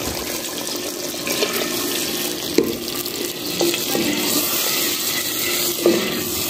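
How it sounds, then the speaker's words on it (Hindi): About two cups of water poured into a pot of cooking meat paste for a degi aloo gosht dish, making a continuous splashing, gurgling rush with a few louder sloshes, close and steady. "तो इसमें थोड़ा सा पानी डालते हैं, 2 कप तकरीबन।"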